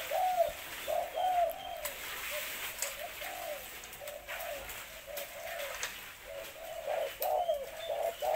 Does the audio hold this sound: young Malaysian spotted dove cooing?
yes